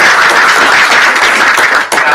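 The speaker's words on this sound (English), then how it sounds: "Let's give a big round of applause for Jared Brodsky." A conference audience at a cybersecurity event applauds a speaker, a loud, dense wash of clapping that holds steady throughout and dips briefly near the end.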